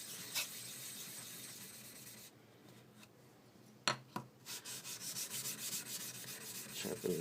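A 6000 grit water stone is rubbed flat against the surface of a 1000 grit stone, giving a steady wet grinding scrape close by with a short pause midway, then brisk, pulsing strokes.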